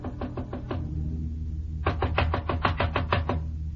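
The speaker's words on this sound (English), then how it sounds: "I knocked on Jan Svenson's door" Knocks on a hotel room door: a quick run of four raps, a pause, then a longer burst of about ten firm raps, close and clear over a low background hum.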